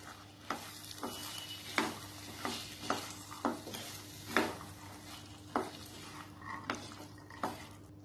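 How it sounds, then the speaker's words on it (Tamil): Boiled chickpeas for masala sundal are stirred in hot oil in a pan, with a soft sizzle under regular scraping strokes of the spoon roughly every half second to a second, close and quiet. "இது எல்லாத்தையும் நல்லா பரட்டி விட்டுக்கலாம்"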